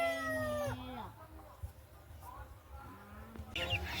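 Chickens cluck and call in a chicken coop, fairly close, with a drawn-out crow-like call at the start and quieter clucks later, under low background noise.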